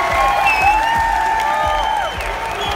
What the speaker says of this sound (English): As you can hear, we've got a great crowd here in London